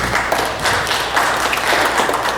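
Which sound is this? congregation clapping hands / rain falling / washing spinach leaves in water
congregation clapping hands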